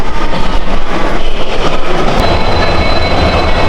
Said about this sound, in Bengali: ট্রেন প্ল্যাটফর্মে ওয়েট করছে